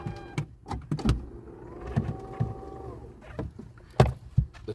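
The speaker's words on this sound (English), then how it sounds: "I'm gonna connect it to the pump right here" A small electric air pump for inflating a bicycle inner tube whines briefly with a rising motor hum in the middle, surrounded by several sharp clunks and handling knocks.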